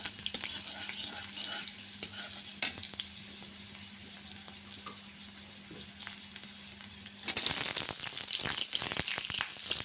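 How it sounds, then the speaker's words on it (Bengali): Black cumin and a bay leaf fry in oil in a pan while being stirred, with a steady soft sizzle and occasional scraping, growing louder and busier with clattering near the end. "সব কিছুকে কিছুক্ষণ নেড়ে চেড়ে একটু মিশিয়ে দিয়ে দিয়েছি একটি তেজপাতা।"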